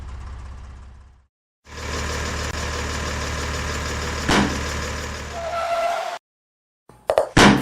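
A cartoon blue tractor's engine chugs loudly and steadily, cutting out briefly, restarting, then stopping again before a few short clattering bursts.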